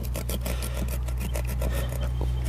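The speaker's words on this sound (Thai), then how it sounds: "ตัดเอาเลยครับ เลื่อยใช้วิธีการแบบเลื่อยเอา" A hand saw rasps back and forth through an old car tire being cut into a planter, with quick repeated strokes over a constant low hum, loud and close.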